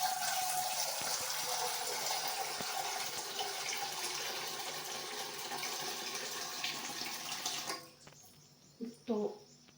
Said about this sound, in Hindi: तो इस तरफ पानी रख देती हूँ चावल के लिए